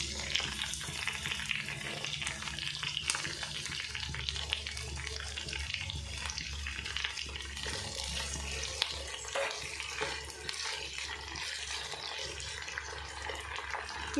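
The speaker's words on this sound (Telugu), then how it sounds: "ఇప్పుడు ఇవి రెండు బాగా ఫ్రై అవనిద్దాం" Green chillies and brinjal pieces fry in a pan with a dense, continuous hiss of bubbling oil, loud and close, holding steady throughout with faint movement underneath.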